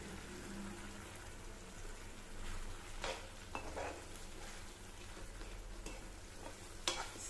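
Broken jaggery being stirred into a pan of ilanthai (jujube) fruit pickle, with a steady low sizzle and scraping stir sounds plus a few sharper clinks of spoon against the pan; no talking.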